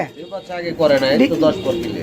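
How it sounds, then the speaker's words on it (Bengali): Tailmark pigeons coo softly in a loft, the low rolling calls mixed with people talking nearby. "টেলমার্ক কবুতর বন্ধুরা দেখতে পাচ্ছেন এই পেয়ারটি রানি হয়েছে"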